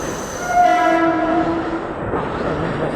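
Train passing through Andheri railway station in Mumbai, a loud, close rumble with a sustained horn blast that fades out, leaving the steady roar of the rolling train.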